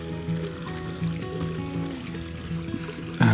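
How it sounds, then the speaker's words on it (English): Running water splashing steadily at a fountain in a quiet San Francisco park, a continuous close wash of trickling and pouring with a brief louder gush near the end. "Oh, I just love the sound of running water."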